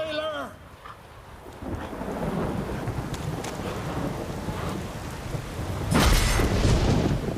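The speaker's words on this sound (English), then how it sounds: "A storm, damn it." A thunderstorm with heavy rain in The Witcher 3 video game, a steady downpour with rumbling thunder that swells into a loud crack near the end, close and alone.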